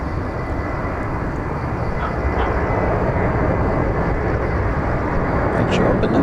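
An Asiana Airlines jet airliner at Incheon in Seoul gives a continuous broad engine roar that swells slightly toward the end, with people talking over it.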